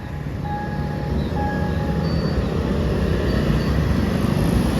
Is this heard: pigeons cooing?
no